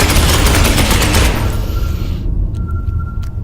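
Loud, dense burst of rapid gunfire from an aimed shot in Space Hulk Ascension, a sustained rattling volley that cuts off sharply after about two seconds, leaving faint ringing and a few soft thuds.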